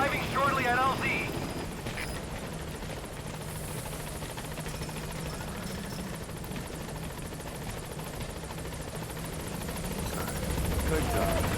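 A helicopter arrives at a landing zone in Metal Gear Solid V: The Phantom Pain, its rotor thrumming steadily throughout, briefly louder at the start and end, with speech heard over it.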